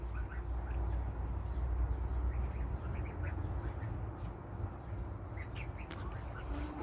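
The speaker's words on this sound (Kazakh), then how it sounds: "Үйректер, қаздар." Young ducks and goslings quack in a soft, busy chorus, with calls overlapping continuously at low level in an enclosure.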